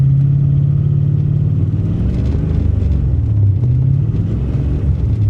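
A 1985 Chevy Corvette drives along in drive, its engine a steady low rumble with a droning hum that rises and dips slightly, close and continuous with no talk.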